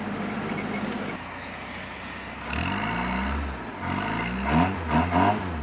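An EMW 327 Cabriolet classic car from 1937 to 1954, with its engine running under driving noise, gets throttle blips: rising revs swell briefly once and then twice more in quick succession, moderately loud.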